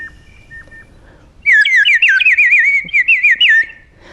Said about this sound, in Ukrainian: Соловейко співає тепло, тихо.